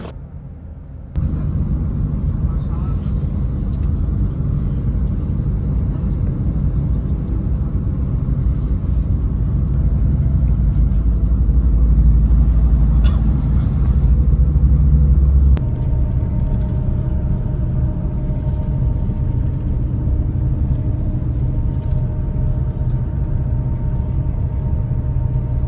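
Deep, steady engine rumble fills the interior of a Sinar Jaya bus travelling at night near Indramayu, a loud constant drone with a drop in low-end roar partway through; no talking.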